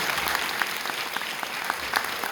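Brief burst of audience applause for the semi-final judges at a drama competition grand finale awards ceremony, a steady dense patter of many hands throughout.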